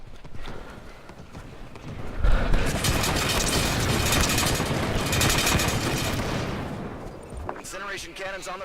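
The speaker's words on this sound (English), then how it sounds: "Incineration cannons on the field." Incineration cannon fire in Halo 5 builds into a loud, sustained blast and roar that fills several seconds before tailing off into crackling, with a brief burst at the start.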